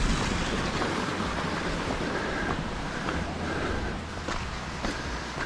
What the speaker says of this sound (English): There are a lot of these little tiny waterfalls all over the place.